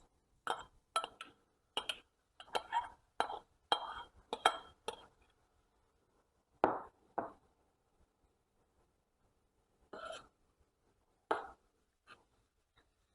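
Pasta being mixed into mushroom sauce in a pan, a run of sharp clinking utensil strikes at an uneven pace, then a few sparser clinks separated by quiet pauses.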